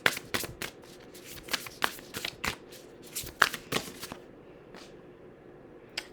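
Tarot cards are shuffled in quick, crisp riffling bursts, with several distinct slaps and flutters spread across the stretch and quieter rustling between them, close up with no talking.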